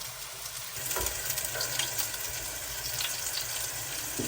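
Meatballs frying in a non-stick pan give a steady close sizzle with faint stirring and scraping, no voices.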